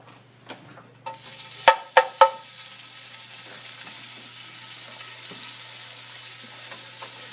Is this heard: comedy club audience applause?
no